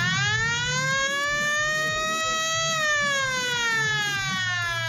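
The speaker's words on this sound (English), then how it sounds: "Give him the sirens, Potts." A wailing siren sound effect rises and falls in a long sweeping tone on a live show, loud and sustained, with faint chatter and background noise underneath.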